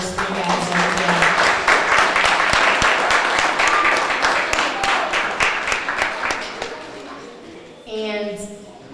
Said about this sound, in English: Another round of applause for those three guys.